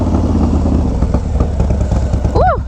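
Loud, steady rumble of a 151 HP Harley-Davidson motorcycle engine heard up close while riding, with an uneven throb running throughout and a brief high rising-and-falling tone near the end.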